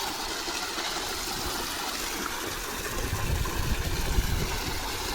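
Continuous rushing water in a farm field, steady and fairly close, growing slightly fuller partway through with no voices over it.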